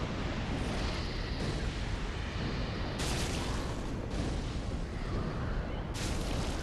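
Chaos Fire Orb spells bursting in Dark Souls III, a dense continuous roar of fiery blasts with repeated louder surges, loud and close, no talk.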